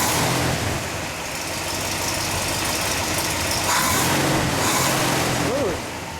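A 1969 Oldsmobile Hurst/Olds with the W30-type 455 High Output V8 idles with a steady, deep rumble, holding an even level throughout the clip with a slight dip near the end.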